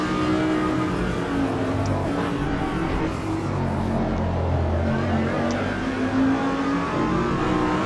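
Race cars in the Automobilista 2 racing game, including a Mercedes and a McLaren, with engines droning and revving continuously through gear changes, a loud sustained engine roar with no pauses.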